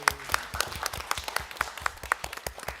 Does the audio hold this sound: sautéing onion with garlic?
no